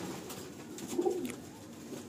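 Madrasi pigeons coo softly in a loft, a low murmuring coo rising briefly near the middle amid quiet background rustle, with no talking.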